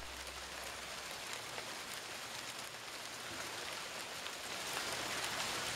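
Hail pours steadily onto a lawn and a sidewalk as a dense, even hiss of small impacts that carries on without a break, with no voices.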